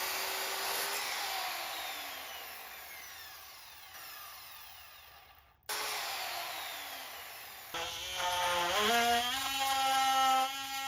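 A power tool with a whining motor cuts into a wooden ceiling beam to trim its length. Loud, rising-and-falling whirring passes come in several bursts with short pauses, ending in a more strained, pulsing run.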